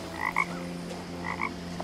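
A video game frog croaks twice, each a short double-pulsed croak about a second apart, over a steady low electronic hum with no talking.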